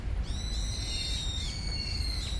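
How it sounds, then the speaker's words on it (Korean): Bird calls ring out over a steady low rumble on a tree-lined greenway path in Korea, a few drawn-out whistling notes repeating outdoors at moderate distance. "새소리가 제법 많이 들리죠."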